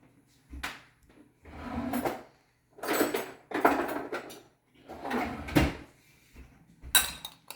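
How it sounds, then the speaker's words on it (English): Someone grabs a spoon from a kitchen drawer while making rice pudding: several sharp clattering bursts of metal cutlery and a sliding drawer, close and fairly loud, with short pauses between. No one speaks. "I'm going to grab a spoon."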